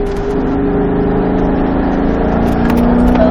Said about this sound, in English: Get that downshift done